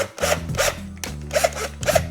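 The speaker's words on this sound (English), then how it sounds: "Let me put it in a vise and see what happens." A plastic Barbie doll head is clamped into a bench vise, with repeated close, harsh scraping and grinding strokes coming in a steady rhythm.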